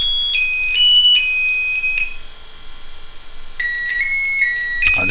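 A small electronics kit circuit plays the Happy Birthday melody in thin, pure electronic beeping tones, one note after another. The tune pauses briefly midway, then resumes, close and clear with no talking.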